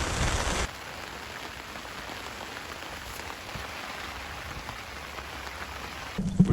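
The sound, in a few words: hard rain falling on a beach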